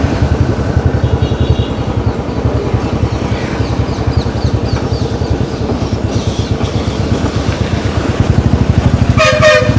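A Kanyakumari-bound train passes close by, its wheels clattering in a fast, steady rhythm on the rails, ending with a sharp horn blast.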